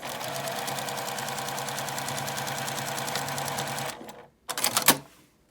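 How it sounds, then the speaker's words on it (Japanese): A sewing machine runs steadily for about four seconds, stitching a 1 cm seam allowance on a large drawstring knapsack bag, with a fast, even mechanical chatter. It stops, then gives a brief second burst. "でまた1センチの縫い代で縫います"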